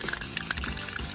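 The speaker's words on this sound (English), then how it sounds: "Get the black spray paint and just" Black spray paint misted onto cardboard from an aerosol can: a continuous broadband hiss lasting about a second, close and fairly loud, with no voices.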